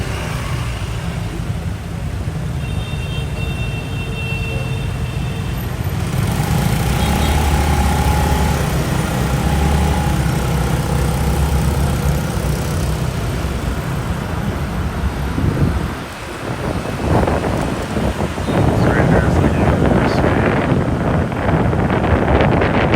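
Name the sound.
motorbike cruising with wind noise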